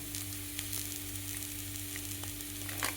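Cauliflower frying in a pan for cauliflower parathas, with a faint, continuous sizzle and a few light stirring scrapes against a low steady hum.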